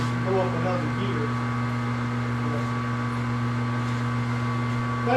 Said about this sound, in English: You can hear the spindle in the background right now running